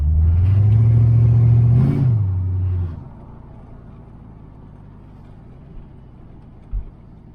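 A car engine revs hard for about three seconds, a loud steady roar with a brief higher surge, then drops back to a quieter idle rumble with a faint knock near the end. The car is a Calypso clone, run just after full-throttle running.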